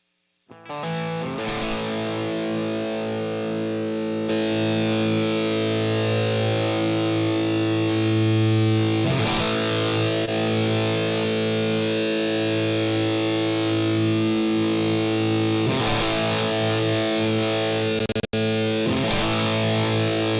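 A guitar played through a heavily distorted Shred Modern amp preset rings out in loud, sustained chords, restruck a few times with brief gaps, close and dense with no voices.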